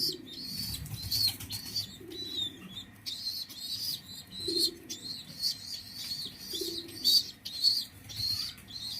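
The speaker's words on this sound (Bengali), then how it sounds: "দেখেন দুইটা কবুতর খাওয়াইতেছে" A pair of pigeons feed their two chicks in a loft, with rapid wing flutters, soft cooing and repeated thin high squeaks from the young, close and fairly quiet.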